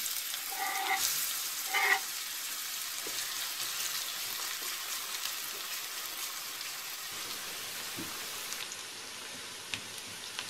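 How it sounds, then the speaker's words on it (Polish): Onion fries in oil in a pan until golden, a low steady sizzle with a few brief clinks early on, quiet and continuous, with no speech. "I gdy się podgrzeje, przesmażę cebulkę na złoto."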